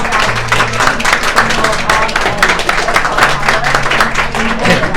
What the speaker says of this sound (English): A round of applause for the wives and families